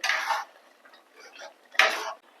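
A spoon scrapes and clinks against a pot of wheat rava payasam with jaggery and cardamom powder, in two bright bursts with lighter scraping between them, heard alone.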